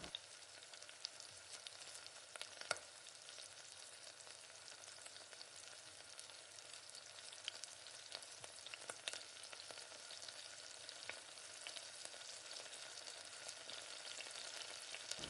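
Onions sauté in a pan for semiya upma, giving a soft, steady sizzle and crackle with scattered stirring clicks, heard close and alone.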